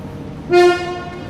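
Horn of a train bound for Nova Gorica at a station, one loud sustained tonal blast lasting about half a second, then fading, with no talk over it.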